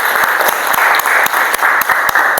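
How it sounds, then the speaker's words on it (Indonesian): Steady, dense applause from a classroom audience honoring B.J. Habibie, sustained and fairly loud for the whole stretch with sharp individual claps standing out. "berikan tepuk tangan."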